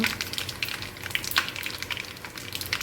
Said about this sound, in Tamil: கொஞ்சம் பொரிஞ்சு வரட்டும்.